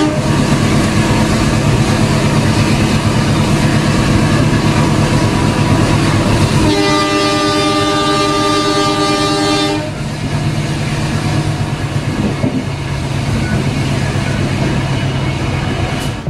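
Rumbling rail noise aboard an Indonesian Logawa passenger train pulled by a vintage locomotive on the run from Bayeman to Probolinggo, steady and loud throughout, with a long sustained horn blast sounding for several seconds midway.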